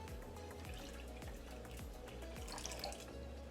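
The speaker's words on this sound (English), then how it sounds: "Use about a cup of water." About a cup of water is poured into a vessel while sweet filling for pumpkin pasties is made, a faint, continuous trickle with quiet dripping and gurgling, close by, with no talking.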